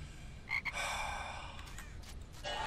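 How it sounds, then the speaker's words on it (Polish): A frog in the Harry Potter PS2 video game croaks in a few short, close bursts over a low background rumble. "Myślałem, że to jest żaba. To jest żaba."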